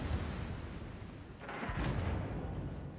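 Battleship main guns fire in the naval video game World of Warships, a heavy booming salvo with a deep rumbling tail, followed by a second blast that rolls on into a low sustained roar.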